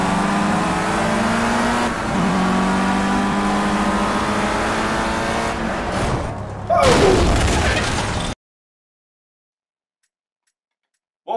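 Race cars in the Project Cars video game, played with a Ferrari steering wheel on Xbox One, roar with droning engine tones that shift pitch as gears change, followed by a loud burst before sudden silence.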